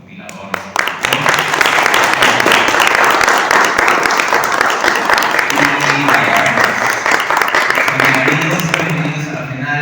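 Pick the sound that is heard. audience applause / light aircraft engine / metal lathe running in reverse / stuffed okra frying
audience applause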